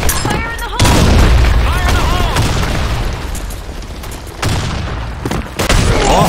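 Grenade explosion in a video game, a loud booming blast with crackling burst noise and scattered gunfire, while a voice shouts over the action.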